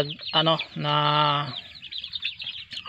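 Chickens on a backyard farm give a few clucks and a drawn-out call, close and clear, with a short flurry of flapping; someone speaks nearby.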